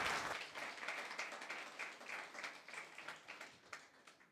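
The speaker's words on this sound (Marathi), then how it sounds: "पुन्हा एकदा टाळ्या वाजूयात, प्रभूला धन्यवाद देऊयात." A church congregation claps in thanksgiving to the Lord during a Sunday sermon, a dense, steady patter of many hands that fills the clip with no voices over it.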